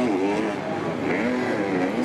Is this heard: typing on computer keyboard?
no